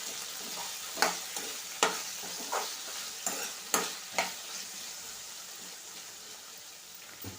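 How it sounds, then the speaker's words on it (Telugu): Okra pieces frying over a medium flame with a steady soft sizzle, punctuated by sharp scraping knocks as a spatula stirs them in the pan at irregular intervals. "ఈ ముక్కలు కూడా మాడిపోకుండా మీడియం ఫ్లేమ్ మీద మధ్య మధ్యలో కలుపుకుంటూ తిప్పుకుంటూ వేయించుకోవాలి"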